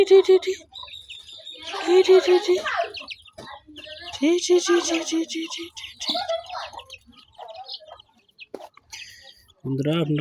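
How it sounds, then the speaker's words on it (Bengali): One-day-old Tiger chicken chicks peeping in a home pen, with bursts of high chirps that repeat and overlap, close by, pausing briefly between clusters. "দেখছেন আমার টাইগার মুরগির বাচ্চা এগুলো একদিনের বাচ্চা"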